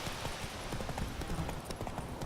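A horse gallops in the video game The Witcher 3: Wild Hunt, rapid rhythmic hoofbeats drumming close and steady over a dense game background with no voices.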